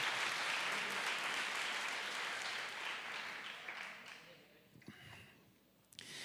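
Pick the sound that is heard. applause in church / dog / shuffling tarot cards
applause in church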